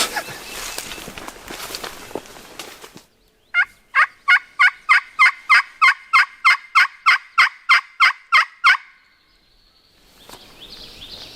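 A wild turkey gobbler in Iowa gobbles in a rapid run of about fifteen sharp, evenly spaced calls, fairly close, after a stretch of rustling.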